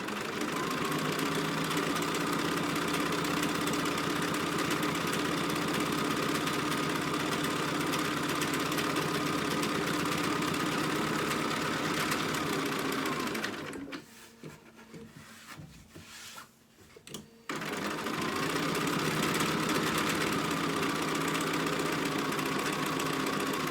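Sewing machine stitching fabric for a dog outfit, running steadily and loudly up close with a continuous whirring hum, briefly stopping midway before resuming.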